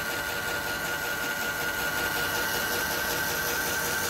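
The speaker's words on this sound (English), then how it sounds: "pump leaks like a sieve because it's an automotive oil pump that belongs in the oil pan of an engine" An automotive oil pump, meant for an engine's oil pan, runs on a charcoal gasifier with a steady, continuous mechanical whir and hum that stays even throughout.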